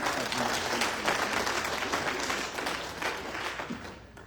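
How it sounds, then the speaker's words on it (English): A crowd at a political gathering where a presidential candidacy is announced claps and applauds steadily, a dense and fairly loud wash of hand claps that eases slightly toward the end. "Let's clap for ourselves."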